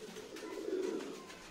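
Punjabi and Madrasi pigeons coo softly in a single low, rolling coo that swells briefly and fades, faint against a quiet background.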